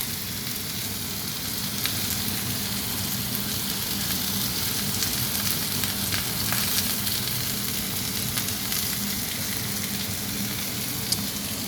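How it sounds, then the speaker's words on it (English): A halal T-bone steak sears in a hot pan, giving a loud, steady, close sizzle and crackle with a few sharp pops and no talk. "So let that just sear the meat."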